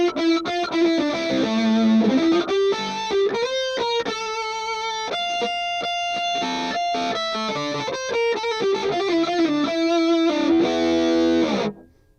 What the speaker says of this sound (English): Now we have a doubling effect.